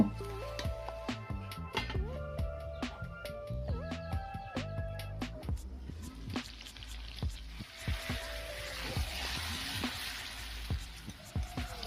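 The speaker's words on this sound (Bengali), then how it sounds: "ভেজে রাখা আলুগুলো কড়াইয়ের মধ্যে তুলে দিয়ে আমি ঢাকা দিয়ে দিয়ে মাংসটাকে কুক করে নেব" Chicken pieces and pre-fried potatoes sizzle in oil in a wok, with a steady frying hiss and repeated sharp clinks and scrapes of a spatula stirring the pan close by, no talking.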